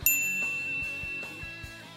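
A bright notification-bell ding rings out clearly at the start, its metallic tone lingering and fading over two seconds, with a few soft low thumps beneath it.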